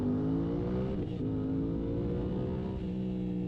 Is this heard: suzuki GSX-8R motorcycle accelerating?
yes